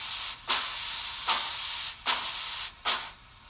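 Steam hiss from the cylinder cocks of a model locomotive fitted with a Tsunami2 sound decoder, moving slowly at low speed: four rhythmic bursts of bright hiss, each rising sharply and then tapering, over a steady quieter hiss.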